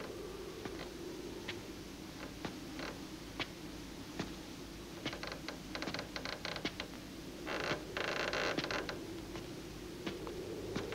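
An old door creaks open inside a dim room where coffins rest, giving a dry, uneven run of creaks and small clicks over a steady low hum, with no talking.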